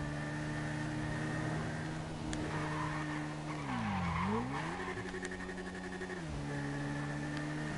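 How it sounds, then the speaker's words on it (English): A car spinning out in a racing game, with loud continuous tire squeal and skidding over a droning engine whose pitch dips and swoops midway before leveling off. "I think he spun out."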